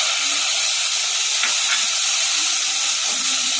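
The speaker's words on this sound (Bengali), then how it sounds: "সর্ষের তেল গরম হয়ে গেছে, এখানে আদা, জিরা, কাঁচা লঙ্কা আর হলুদের গুঁড়ো সেটা দিয়ে দিলাম।" Ginger, cumin, green chilli and turmeric sizzle in hot mustard oil for a Bengali jackfruit curry, a steady, close, unbroken hiss with a couple of faint pops and no talking.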